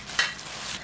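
Seasoned squid and minari being tossed together by hand, a short soft stirring and rustling with one brief louder swish, close and continuous with no talk.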